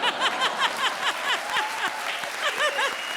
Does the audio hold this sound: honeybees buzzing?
no